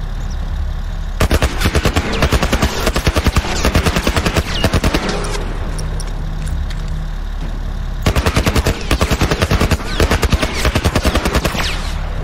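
Machine gun fire in The Last of Us, sustained rapid bursts of loud close shots in two long runs separated by a short pause, over a steady low engine-like rumble.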